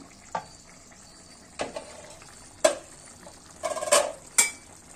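A metal lid goes onto a pot of simmering raw banana and fish-style curry, giving several separate close clanks and rattles spaced a second or so apart, with quiet cooking noise between them.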